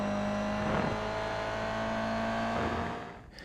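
Engine of a Toyota GR86 Cup race car at Lime Rock Park in the iRacing sim, revving hard and climbing in pitch through a gear shift, loud and close, then easing off at the end.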